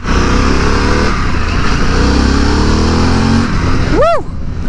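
A Harley-Davidson Pan America Special motorcycle accelerates hard, its loud close engine roar climbing steadily in pitch for several seconds before easing off, and a rider lets out a short excited whoop at the end.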